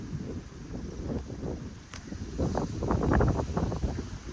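Steady wind rumbles and gusts across the microphone, swelling louder toward the end, with a soft rustle mixed in.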